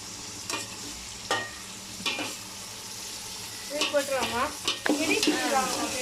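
Ginger and garlic sautéed in a pan, with scattered scraping stir strokes over a soft sizzle and faint voices in the background toward the end.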